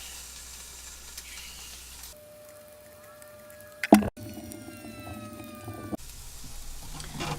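Onions sizzle steadily in a pan aboard a liveaboard boat, a continuous crackling hiss broken midway by a sharp clatter and a brief pause before the frying resumes, with a faint tonal whine in the background.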